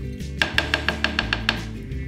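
A spoon clinks rhythmically against a pot while stirring buckwheat porridge with cream, about eight evenly spaced ringing taps over a low background hum, close and clear with no talking.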